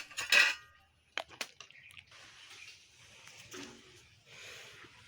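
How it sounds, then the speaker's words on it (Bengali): Kitchen clatter as cooked lentil dal is tipped from a pot into a bowl: a sharp metallic clank, scraping of a utensil against the vessel, then soft wet pouring and stirring noises, close and fairly quiet. "একটা পাত্রে ডালটা ঢেলে নিচ্ছি"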